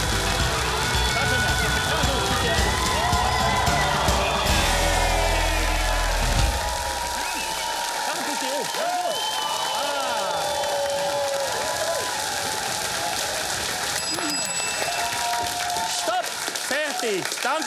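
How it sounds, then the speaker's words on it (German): A studio audience at a Swiss comedy show applauds and cheers loudly and continuously, dense clapping with whoops and shouts sustained throughout, while a voice tries to speak over the crowd. "Danke vielmals, merci Applaus"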